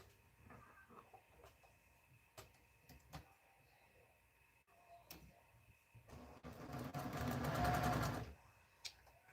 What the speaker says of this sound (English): So now I'll go ahead and sew these on